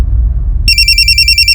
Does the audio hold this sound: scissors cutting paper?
no